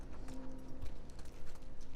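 Horse hooves in The Last of Us Part II clop in a steady, quick rhythm over a background hum and a dense bed of ambient noise, with no voices.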